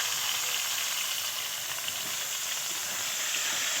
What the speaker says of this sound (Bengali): এবার পেঁয়াজ কুচুনো দিয়ে দিলাম,